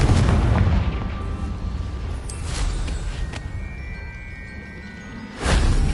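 A Confringo blasting curse explodes in the Hogwarts Legacy video game, heard as a rumbling, booming blast that fades out, followed by a second sharp burst near the end.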